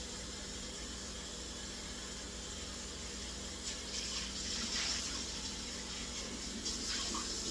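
Tap water runs steadily into a kitchen sink while dishes are rinsed, a constant hiss of flow with a few brief splashy surges near the end; no talking.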